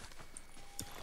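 Horse hooves clip-clop at a steady gallop in the video game Ghost of Tsushima, a quick rhythmic thudding under game ambience, with a brief sharper accent near the end.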